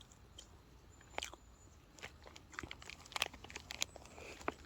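Bread filled with marshmallow being chewed up close, soft crunchy bites and squishy mastication sounds coming in irregular bursts, with no talking.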